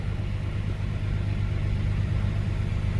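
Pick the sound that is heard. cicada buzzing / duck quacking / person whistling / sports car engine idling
sports car engine idling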